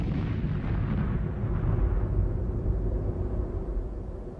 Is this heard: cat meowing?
no